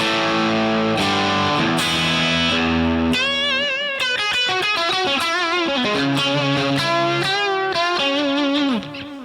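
Electric guitar played through an amp modeller with a very wet stereo reverb: sustained distorted chords give way to a busy, bright lead line with bends, loud and alone, with a long wash of reverb tail.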